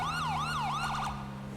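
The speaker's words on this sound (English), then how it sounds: "if you'll hear this siren, it's way too loud." Emergency vehicle siren in GTA 5, a loud wailing tone rising and falling in repeated sweeps, then a quicker yelp pattern, over a steady low engine hum, with no talking.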